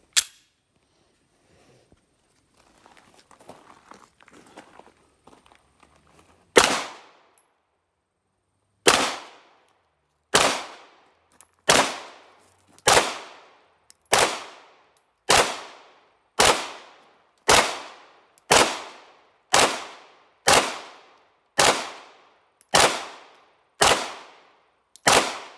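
A Sig Sauer P320 9mm pistol fires at a shooting range, about fourteen sharp, loud reports in an evenly spaced string after a quiet stretch of faint handling noise.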